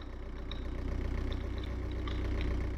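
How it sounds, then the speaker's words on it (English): In a video game, a Smart ForTwo's diesel engine idles with a low, even, pulsing chug that holds steady and quiet, with no other sounds over it. "Oh yeah, this one has a diesel engine."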